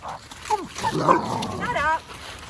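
Dogs bark and yip in a park, a few short calls close by, with a person's voice talking over them.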